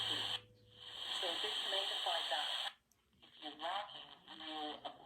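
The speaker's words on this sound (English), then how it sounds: "Like, you get a lot of white noise." Radio static hisses with garbled voices and tones breaking through as stations drift in and out, a brief drop in the middle.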